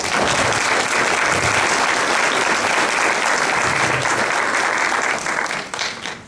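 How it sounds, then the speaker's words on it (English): A crowd at a youth awards dinner applauds loudly and steadily for the parents, the dense clapping holding strong before tapering off at the end. "Let's give a round of applause to all the parents."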